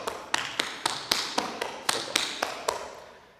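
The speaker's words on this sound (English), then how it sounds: "On the right, it's going to sound like this." Tap shoes beating out a double, double, single cramp roll pattern on the right foot: about a dozen crisp, close metallic taps in quick rhythmic clusters, alone with no talking.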